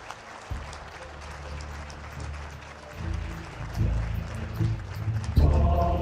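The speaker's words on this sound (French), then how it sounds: "Je vous prie d'applaudir" An audience applauds at a forester of the year 2012 dinner contest, clapping that swells through the clip under low rumbling and a voice, ending in a louder burst.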